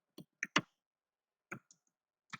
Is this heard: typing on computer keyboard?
yes